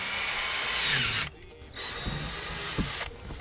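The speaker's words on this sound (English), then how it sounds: "So we're just gonna drill our holes." Power drill boring holes through a lid about 1/4 to 1/2 inch thick, a loud steady whine in two bursts separated by a short pause, close up with no talking.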